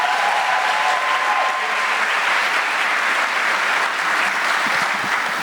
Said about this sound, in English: Give yourselves an excited round of applause.